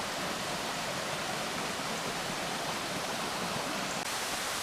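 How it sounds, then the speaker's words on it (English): Steady rushing water from a waterfall along a forest trail at Deep Creek near Bryson City in the Smoky Mountains, a continuous broadband roar with no talk over it. "Nice little beautiful thing of running water."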